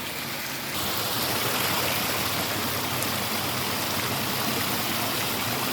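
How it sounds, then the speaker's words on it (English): Waterfall and stream, a dense, steady rush of water flowing close by that grows louder after the first moment and continues with no voices. "There's the waterfall."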